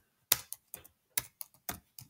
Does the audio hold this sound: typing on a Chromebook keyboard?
yes